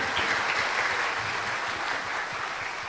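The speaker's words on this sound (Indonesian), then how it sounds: "Tepuk tangan." An audience breaks into dense, continuous applause, a steady wash of clapping heard up close for about three seconds with no talking over it.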